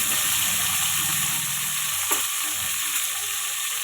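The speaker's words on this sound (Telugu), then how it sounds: "వంకాయ ముక్కలన్నీ వేసుకొని మంచిగా వేంపుకోవాలి" Eggplant pieces frying in oil in a pan, a steady close hiss with a low bubbling crackle underneath, interrupted by a single sharp stirring clack partway through and a fainter knock after.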